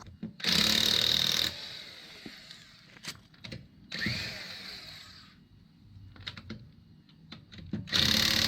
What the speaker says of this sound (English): I can come here and take off the remaining lug nuts.